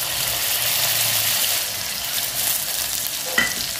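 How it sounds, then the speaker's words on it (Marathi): Urad dal and chili sauté in oil in a pan for a masala idli tempering, giving a close, steady sizzle with stirring scrapes and a small clink near the end. "डाळ अशी खरपूस परतून घ्यायची।"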